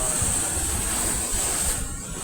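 Ocean waves surging and breaking around large rocks at the shore, a continuous loud wash of surf mixed with wind buffeting the microphone.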